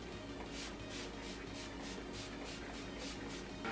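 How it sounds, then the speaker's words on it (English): A quick series of soft, hissy makeup setting spray bursts repeats at a steady rhythm, quiet and close, with no voices. "I'm going to go ahead and apply some makeup setting spray"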